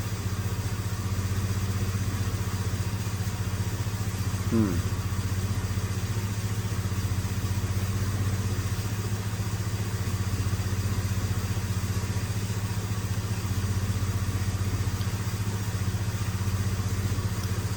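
A 2007 Mitsubishi Outlander engine idles steadily during a test, with a low, even hum running the whole time and a brief chirp partway through. No one speaks.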